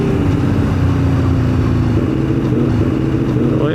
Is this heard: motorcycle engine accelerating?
yes